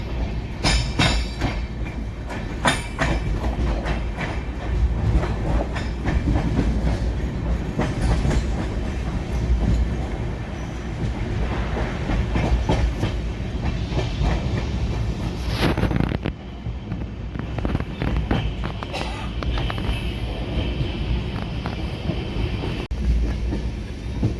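Train carriage rolling along rails, a steady loud rumble with clickety-clack wheel rhythm and occasional squeal, continuous and close as if heard from inside.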